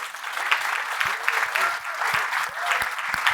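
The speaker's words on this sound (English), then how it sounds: "Big round of applause for Guy, by the way, everyone" A crowd at a property business seminar applauds, steady many-handed clapping with a few sharper individual claps standing out close by, sustained throughout with no talking.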